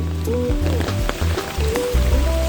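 Rain falls on a rainy day, a steady wash of hiss that runs the whole time beneath a low, droning tonal hum.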